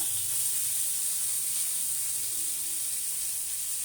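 Chopped onion and two green chilies sizzling in hot oil while cooking pea ghugni, a steady, even hiss at constant loudness, close and uninterrupted with no speech.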